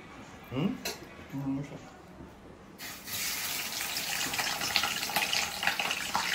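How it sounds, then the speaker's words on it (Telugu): Water is poured over fish to wash them, first a few splashes and clatter, then a continuous loud rush of running water filling a vessel, with a voice talking early on. "కడిగా మళ్ళీ నీళ్ళు పోసి కడుగుతున్నా నేను"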